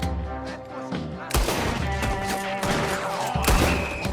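Gunfire in Red Dead Redemption 2, sharp gunshot cracks breaking in after a quieter stretch, then a dense fusillade of overlapping shots with booming reports, loud and close.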